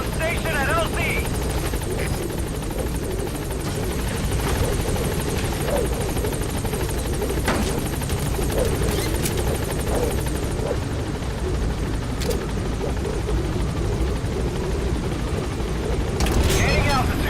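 Pequod helicopter in Metal Gear Solid V arriving at a landing zone: a loud, steady rotor roar fills the whole clip, with game radio voices speaking over it.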